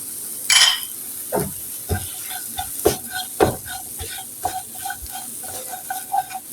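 Vermicelli being stirred with sugar and coconut in a pan for sweet jorda semai, a spoon scraping and clinking against the metal in irregular strokes over a soft sizzle, close and alone without talk.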